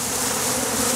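Drone honeybees buzz close by in a dense, steady, loud hum that fills the whole brief moment without pause.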